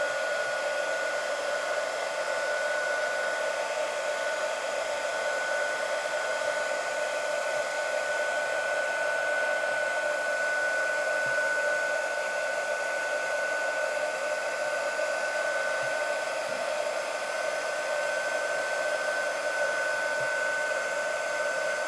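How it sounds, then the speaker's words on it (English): An embossing heat tool blows steadily while melting embossing powder on a stamped card, a constant whining hum with a fan-like hiss that runs unchanged and close by for the whole stretch. "I'll get my embossing tool and we'll melt this embossing powder."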